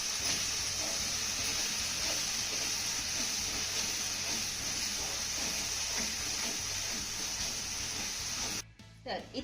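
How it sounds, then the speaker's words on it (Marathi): Spiced yogurt masala frying in hot tempering oil in a pan, a steady close sizzle and hiss that holds loud and even for several seconds, then cuts off abruptly near the end. "घातलेला मसाला आपल्याला फोडणीमध्ये ना 2 ते 3 मिनिटं चांगला परतून घ्यायचा आहे"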